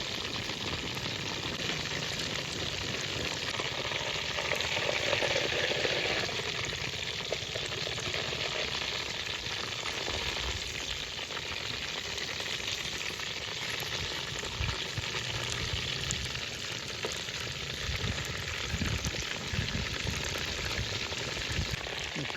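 A whole chicken fries in hot oil in a kadai at an outdoor village cooking spot, giving a dense, continuous sizzle and crackle that stays steady and close with no talking.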